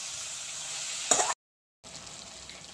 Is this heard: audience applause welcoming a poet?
no